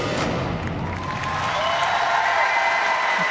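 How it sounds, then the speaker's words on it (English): Arena crowd at a pairs short program figure skating event at the European Championships in Sheffield applauding a performance, a steady wash of clapping filling the whole stretch at even loudness. "The crowd really appreciating the performance."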